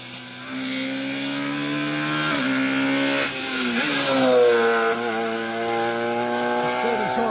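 A Citroen C2 Super 1600 rally car races past on a special stage of a rally, its crisp, high-pitched engine rising and falling through gear changes as it approaches and pulls away, loud and continuous.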